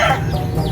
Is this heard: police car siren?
no